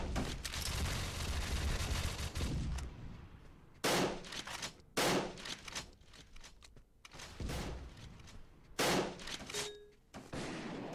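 Bursts of gunfire in the Contra City online shooter during a 2v2 clan match, with several dense volleys separated by quieter gaps of scattered single shots, some near and some distant, and no talk.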